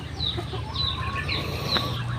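Backyard chickens at a rural countryside home cluck in short repeated bursts, close by and fairly loud against a faint outdoor background.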